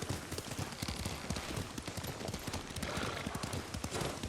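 Horse hooves clip-clopping steadily at a riding gait in the samurai game Ghost of Tsushima, a continuous rhythmic patter of beats close up, carried along under a dense wash of background score.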